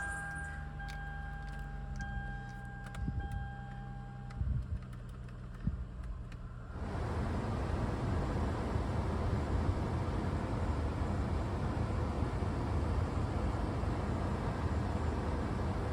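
An older car's engine idles steadily while its air conditioning is recharged. A light hum with clicks at first becomes a louder, constant broadband roar about halfway through as the AC fan and compressor kick in.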